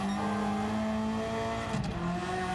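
A car in Gran Turismo 7, an engine-swapped compact such as a Compact TT, Demio or Clio, holds a steady droning engine tone as it slides, with a brief scrubbing tire noise near the end; no voices.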